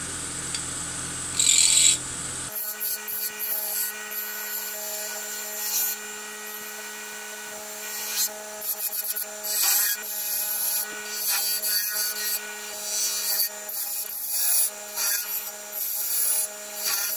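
A sharp spindle gouge cuts a small wooden ball on a lathe, a brief scraping burst followed by a steady motor hum with rhythmic rasping and rubbing bursts as shavings come off the spinning wood.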